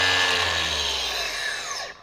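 A Metabo HPT 36V cordless angle grinder spins freely in auto mode, its high motor whine running steadily and then spinning down, with the pitch dropping as it slows to a stop.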